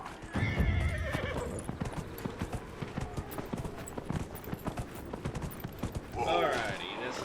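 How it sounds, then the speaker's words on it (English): A horse in Dragon Age trots with rhythmic clip-clopping hooves, whinnies loudly near the start, and gives a second neigh near the end, with talking heard over the hoofbeats. "we have a horse."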